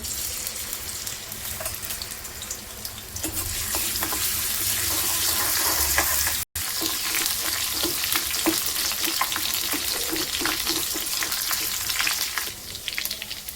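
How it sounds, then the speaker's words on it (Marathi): Garlic sizzles and crackles in two spoons of hot oil for a Vidarbha-style cluster bean and potato dish, a steady close frying hiss with stirring clatter, briefly cut off midway then resuming. "गवार आणि बटाट्याची भाजी बनवण्यासाठी आपण 2 चम्मच तेल टाकून घेणार आहोत. लसूण टाकूया."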